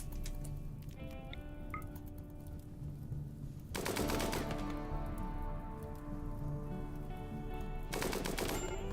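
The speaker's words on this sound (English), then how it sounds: "Where's my large machine gun?" Large machine gun in the RimWorld video game firing two loud bursts of rapid automatic fire a few seconds apart, rising over steady tonal game ambience and a soft background hum.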